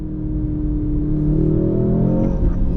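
A 2023 Mercedes C63 AMG engine pulls hard after a downshift, a loud, sustained rising roar heard from inside the cabin with no voices over it.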